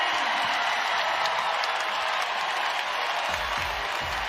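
A college basketball arena crowd at a Louisville vs Kentucky women's game roars with loud, sustained cheering and applause, a thick continuous wall of noise with some low rumble near the end.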